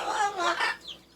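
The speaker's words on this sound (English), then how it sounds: "the Amazon parrot. She's competing with me for the microphone." An Amazon parrot named Lolita calls close to the microphone in a home with hens nearby, giving a loud, harsh, bird-like squawk that warbles over about a second and then trails off into a thin, fading note.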